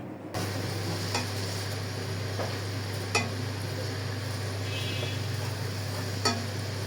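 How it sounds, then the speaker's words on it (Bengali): Lentils are sautéed with spices in a pan, with a gentle sizzle running throughout and occasional soft scrapes and clinks as the mixture is stirred. "এখন ডালটাকে সুন্দর করে মশলার সাথে কষিয়ে নিব"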